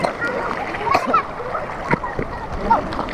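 People swim and splash in an outdoor river or stream at Aguilar, Pangasinan, with scattered splashes and ripples close by while voices talk and call out over them.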